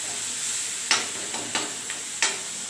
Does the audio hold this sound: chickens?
no